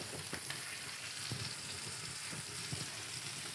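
An onion sizzles on hot coals at a campfire in the woods, a soft, steady hiss with faint crackles and pops, quiet and close with no talking.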